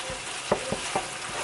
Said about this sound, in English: It's just still sizzling for whatever reason.